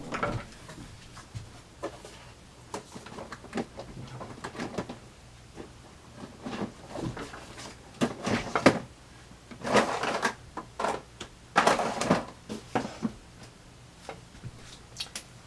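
Drawers in a junk-journal craft space being opened and closed: a scattered series of wooden slides, clicks and knocks, sparse and quiet at first, then growing busier and louder with clustered rattling bursts toward the end.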